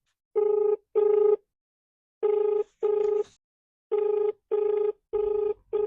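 A phone ringing unanswered on an outgoing call: paired electronic rings repeating three times with silent gaps between, loud and clear, alone.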